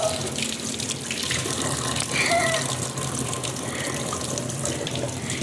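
A child washes their face under running tap water at a sink. A steady, fairly loud stream of water flows throughout with splashing, and voices may be faintly audible underneath.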